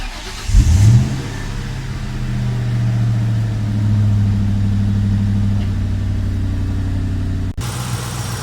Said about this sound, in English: It might take you a few tries to get the car started at first.